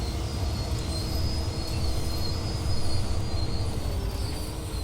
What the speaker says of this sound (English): If we put this into full service and then suppression, we can see the train stops fairly quickly